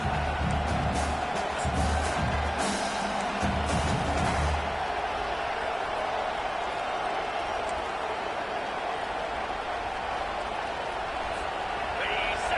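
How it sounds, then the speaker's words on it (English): Loud, steady roar of a college football stadium crowd during an Ole Miss versus Tennessee game as the defense faces fourth down, a dense sustained wall of noise with a brief low rumble of speech early on. "This crowd busting the decibel meter and trying to will a 4th down stop."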